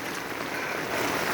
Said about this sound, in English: Wading through water.